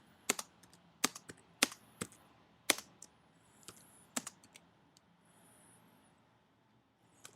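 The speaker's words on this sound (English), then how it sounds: "I'm going to type in T space" Letters and the space bar are struck on a computer keyboard in sparse, irregular clacks, some loud and some soft, close and alone in a quiet room.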